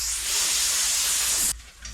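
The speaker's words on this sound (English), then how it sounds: "Lastly, I like to spray panel wipe on them to check for any low areas after sanding." A close, loud hiss of panel wipe sprayed from a spray bottle onto sanded VW Transporter T4 wings in a bodywork shop, one continuous burst of about one and a half seconds that cuts off sharply, with no talking.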